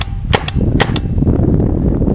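A RAP4 T68 M4 paintball gun fires four sharp, close pops in two quick pairs, then a brief mechanical clatter over low room noise, with no speech.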